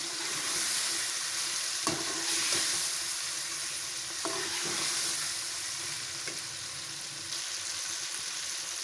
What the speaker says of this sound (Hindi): अब ये जो बीफ का गोश्त उबाल के रखा है ये डाल दिया है। अब इसको भी अच्छी तरह भून लेंगे।